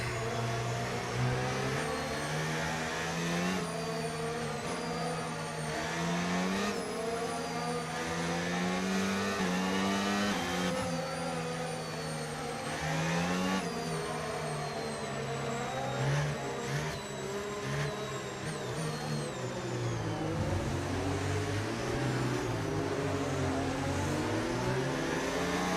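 Race cars in a racing video game accelerate as the field restarts after a safety car, engines droning and rising together in steady pitch sweeps, loud and continuous with no pauses.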